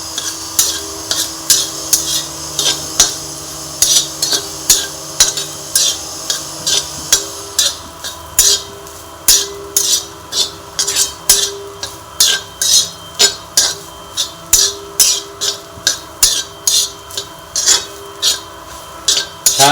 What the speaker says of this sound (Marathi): आता हे सगळं आपण व्यवस्थित मिक्स करून घेऊया.